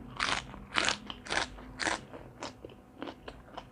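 Close, crisp crunching of large cuttlefish tentacles being chewed, several loud bites in a steady rhythm followed by quieter, shorter crunches as the chewing tapers off, with no talking.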